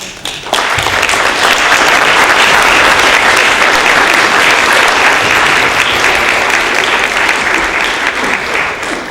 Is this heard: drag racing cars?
no